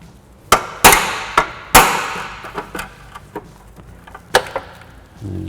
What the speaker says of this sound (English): I can actually use a punch and a little hammer. I'll just tap it, and that loosens this whole thing.